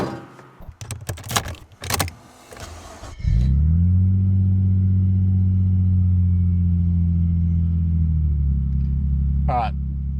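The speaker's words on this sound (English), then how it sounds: "the car is really loud" A 1998 Nissan R34 Skyline 25GT Coupe starts up after some clunks and rattles, then holds a loud, steady, deep engine drone close by, with a brief sharper noise near the end.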